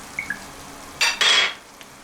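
Pepper and tomato paste sauté with onions in a pot: a quiet background, then two short bursts of sizzling and scraping as the mixture is stirred, close and brief, with no speech.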